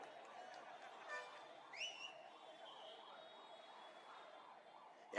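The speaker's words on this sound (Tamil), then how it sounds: "இனி இப்படிதான் அடிக்கடி" An ambulance siren wails faintly in the distance with a steady, repeating up-and-down warble, joined briefly by a few higher whistle-like tones, all at low level with no clear talk.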